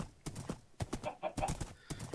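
Minecraft horse hooves clip-clopping in a quick, uneven run of sharp close taps, fairly quiet, with brief gaps between steps.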